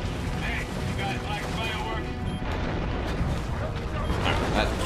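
Rocket launcher explosions in the video game Turok make a dense, loud rumble of booming blasts that fills the whole stretch without letup, with a voice talking over the noise.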